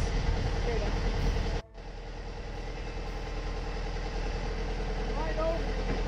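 A sailboat's inboard engine motoring near Stonington, Maine, a steady low diesel drone that briefly cuts out then resumes and runs evenly, with faint voices in the background.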